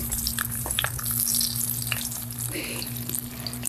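Cumin and mustard seeds sizzling and crackling in hot oil for a vegetable dish, a steady fry with scattered sharp pops and a faint low hum beneath, nearby and moderately loud.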